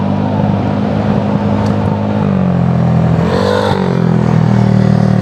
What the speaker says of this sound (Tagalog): Ingay ng motor mo pare.